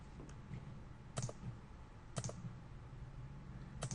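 Three quiet, sharp mouse clicks land about a second apart over a faint room hum, with no talking.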